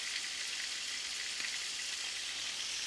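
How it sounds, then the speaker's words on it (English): Garlic sizzling in oil in a pan, a steady bright crackle and hiss that holds evenly close up, with no voices. "With our garlic, which is simmering away"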